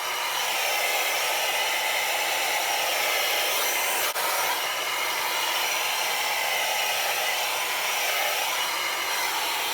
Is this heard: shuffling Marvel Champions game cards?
no